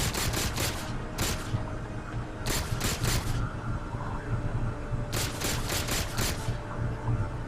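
Plasma pistol fired in the Halo 4 campaign, with quick clusters of sharp shots in rapid bursts over a constant low game rumble, and no talk.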